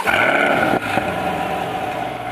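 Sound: 2020 Chevrolet Corvette Stingray 3LT engine starting up

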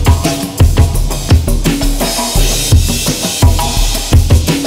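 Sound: combined drum samples including electric 606 drum machine

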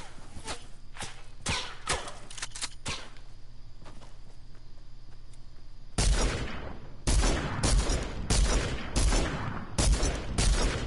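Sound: gunfire shooting at the player in a PS4 video game

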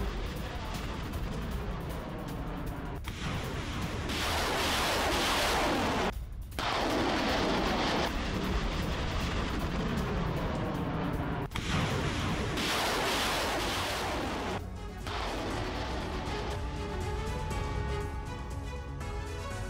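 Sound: multiple launch rocket system attack on Ukrainian military post

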